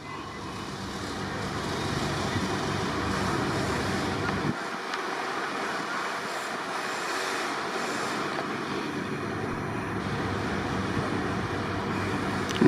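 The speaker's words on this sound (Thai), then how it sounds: "นึกว่ารถอะไรมา เป็นรถหินโรยทางครับ" A ballast train rolls past on a Thai railway line as a sustained, broad rumbling roar with wind buffeting, shifting partway through as the wagons go by.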